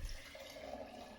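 Water poured out of a rinse tray, a faint brief rushing gush of liquid draining away, heard alone without talk.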